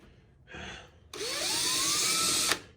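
A power drill with a pilot point bit bores into the body of a Plymouth Cricket wagon, a short whir followed by a louder sustained whine whose pitch rises as it grabs, then stops abruptly.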